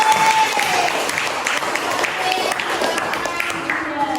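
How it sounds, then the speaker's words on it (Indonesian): Classroom applause for a student group after a presentation, steady dense clapping from many pupils holding for several seconds, with some voices mixed in. "Tepuk tangan buat kelompok C."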